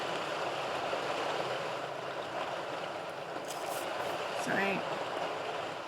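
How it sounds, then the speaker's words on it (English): Heavy rain pouring down outside in January, a dense steady hiss of falling water heard from indoors, with a brief spoken word and faint other sounds over it. "it's absolutely pouring down with rain"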